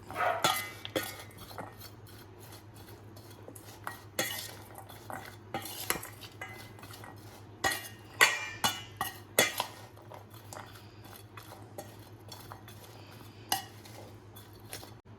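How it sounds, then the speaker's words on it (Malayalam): A spoon mixes an egg and vegetable salad in a bowl, with irregular clinks and scrapes against the dish, quiet and close, over a low steady hum. "ഇനി നമുക്കിതെല്ലാം കൂടെ നല്ലപോലെ ഒന്ന് മിക്സ് ചെയ്തെടുക്കാം."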